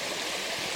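A river flows in a national park in the Wicklow Mountains, a steady, full rushing wash of water that stays constant throughout, close and fairly loud with no talk.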